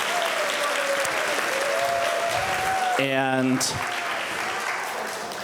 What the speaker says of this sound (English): You can stand up, we'll clap for you.